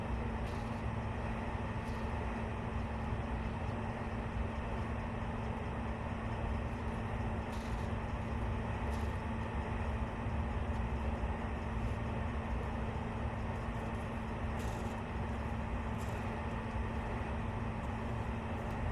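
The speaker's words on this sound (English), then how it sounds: "The train is very slow getting up to speed." Deltic diesel train on the East Coast Main Line slowly accelerating, a continuous heavy engine drone and rumble with a sustained low tone and occasional faint clicks, heard steadily with no talking.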